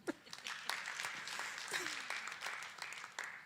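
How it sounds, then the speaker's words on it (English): A modest audience claps at a community event honouring an organising team, the applause fairly close and steady, mixed with a few voices in the background. "Please, let's give them a clap."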